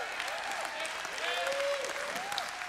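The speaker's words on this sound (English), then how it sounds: "go ahead and give me some applause" Crowd applause in a school audience, steady mid-distance clapping and cheering with a voice calling out over it.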